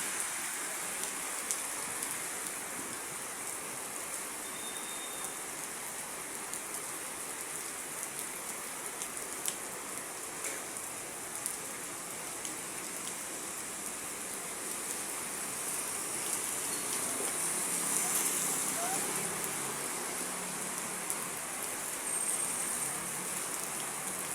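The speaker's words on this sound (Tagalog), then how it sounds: "napakalakas ng ulan natin" Heavy rain pours down on a street near a market, a dense steady hiss of drops drumming on surfaces that keeps on unbroken, with no voices.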